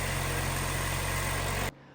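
A Jeep Wrangler's engine idles just after startup, a steady loud broadband hum with low mechanical drone, holding evenly before cutting off abruptly near the end.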